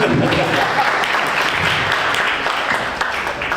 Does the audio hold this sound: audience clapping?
yes